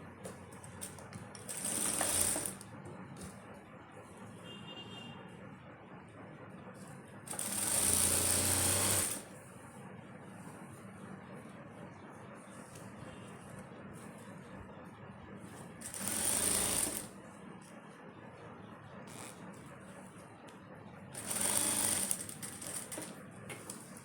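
A sewing machine stitches an invisible zip onto a kurti in four separate short bursts of whirring, each a couple of seconds long, with quiet pauses between them.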